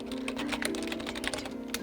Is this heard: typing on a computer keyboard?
yes